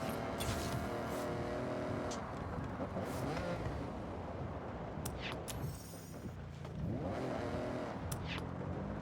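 Car engine revving in Forza Horizon 6, a stock, unmodified car, loud and continuous with rising and falling pitch sweeps, over steady road and game noise.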